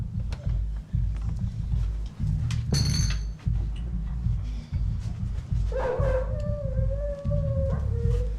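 Police dogs search a bedroom during a drug raid, with a sharp yelp, a brief bark and a drawn-out whine over heavy, thudding footsteps and rumbling movement nearby.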